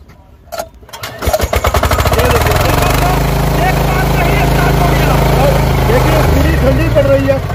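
A 10 hp diesel power tiller engine is rope-started and catches, settling into a loud, steady chugging idle close by, after a few sharp knocks at the start.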